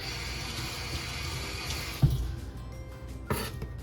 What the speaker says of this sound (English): Let me rinse this real quick.